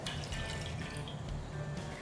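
Milk and then water are poured into a cooking pan for aval kesari, producing a faint, steady liquid pour with soft splashing and no pauses.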